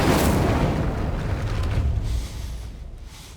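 A fiery blast from the Incendio fire spell in Hogwarts Legacy, cast at a gate: a loud, broad whooshing burst that hits at once, then rumbles and slowly fades over a few seconds.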